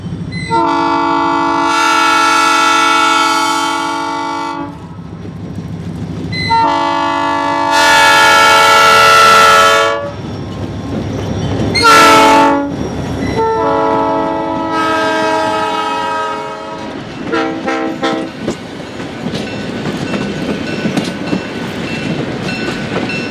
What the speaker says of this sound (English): The Zephyr returns, this time being led by Wisconsin Central 7525 and EMD SD45